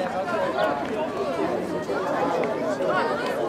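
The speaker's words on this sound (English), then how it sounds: "You can hear the crowd all wondering the exact same thing" A crowd at an amateur masters football match fills the air with a steady murmur of many voices, medium distance, with a commentator talking over it.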